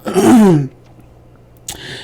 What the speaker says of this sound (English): even as you're coughing